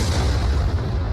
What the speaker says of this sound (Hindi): धमाके की आवाज आपको सुनवाते हैं किस तरह से रॉकेट से हमला किया गया है राजधानी कीव में